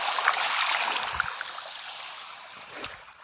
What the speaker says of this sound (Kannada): ಸೈಡಲ್ಲಿ ನದಿ